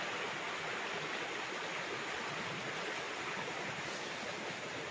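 A river runs beside a rice paddy on farmland in Cavinti, Laguna, its flow a steady, dense rush of water that is close and unbroken, with no voices.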